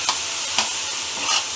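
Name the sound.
roasting chillies and coriander in a pan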